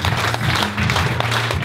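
An audience at a fashion show claps steadily, a dense, even wash of applause from many hands close by with a low hum underneath.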